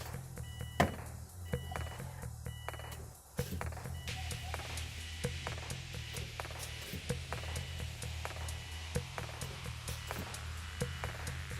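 A Subaru Baja's electric fuel pump primes with the key cycled a couple of times, a faint whirring hum with clicks and beeping chimes, quiet and close inside the vehicle.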